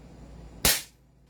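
An airsoft M4A1 carbine fires a single sharp shot over a chronograph, loud and close with a quick decay, following a quiet background.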